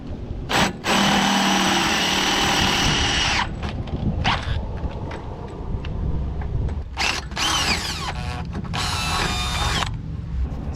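A power drill whines loudly in several long bursts, stopping and restarting, with brief grinding and ratcheting noises between runs, enlarging a hole in metal while installing E46 lower control arms on a BMW E36.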